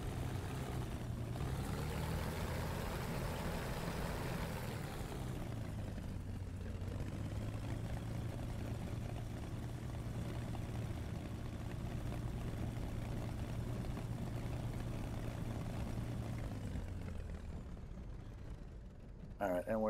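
A Messerschmitt Bf 109 K-4 piston engine in a flight sim, droning steadily at idle on the ground and then cutting out near the end, with someone talking over the hum.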